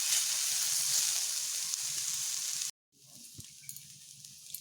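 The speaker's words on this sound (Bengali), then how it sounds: "আরেকটুক্ষণ ভালোভাবে ভেজে নেব।" Banana stem pieces and jackfruit seeds fry in a pan with a steady, close hiss that cuts off abruptly, then returns as a quieter sizzle with a few small knocks.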